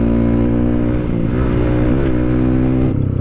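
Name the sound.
Honda CRF supermoto motorcycle with bore-up engine accelerating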